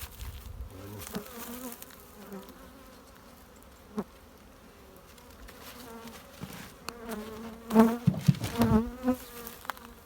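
Honey bees buzz close by, their droning hum wavering and rising in bursts, with a few soft knocks and clicks in between, during autumn hive care in Antalya.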